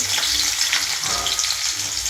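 Loud, steady sizzling of garlic frying in hot oil in a wok, with faint stirring scrapes and no voices.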